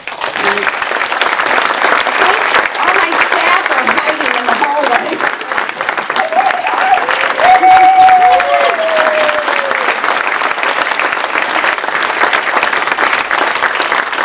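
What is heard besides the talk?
audience applause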